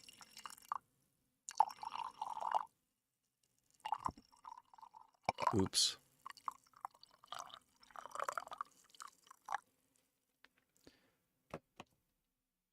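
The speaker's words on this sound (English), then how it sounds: "just enjoy the first pour of coffee of the day for me" Coffee being poured for the first cup of the day gives intermittent liquid splashes and gurgles in short bursts, fairly quiet and close, with a voice speaking briefly between them.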